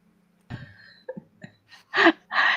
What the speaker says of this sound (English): The minute I sit down and you start the show, I start coughing.